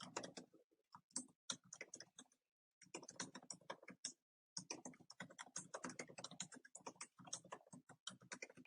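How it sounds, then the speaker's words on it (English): Steady clatter of keys typing on a computer keyboard, rapid bursts broken by a couple of brief pauses, close and fairly quiet, with no voices. "You just start typing and press enter."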